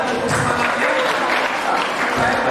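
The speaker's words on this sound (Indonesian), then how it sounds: "tepuk tangan untuk semangatnya." Audience applause at a graduation ceremony for a training and course institute, a continuous dense round of clapping from a crowd, steady and fairly close throughout.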